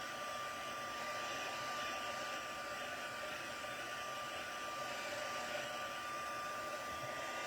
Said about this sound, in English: this one is a Stampin' Up heat tool